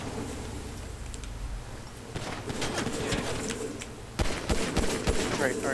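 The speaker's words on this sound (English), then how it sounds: "Why am I even getting shot at?" Bursts of rapid gunfire in GTA V online multiplayer, sharp cracks clustered in flurries over a noisy game soundscape, with a player talking over the shooting.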